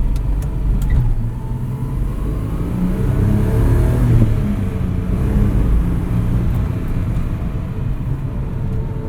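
A 1971 Datsun 240Z on the road, its engine droning at steady cruising speed with low rumble and road and wind noise, heard from inside the car.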